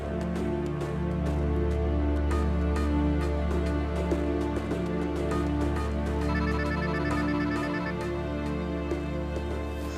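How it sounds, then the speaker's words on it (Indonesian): Indoors, a telephone rings with a steady repeating electronic tone beneath a sustained musical background, continuous and moderately loud throughout. "itu ada telepon tuh"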